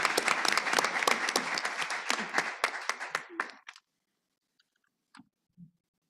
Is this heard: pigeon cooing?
no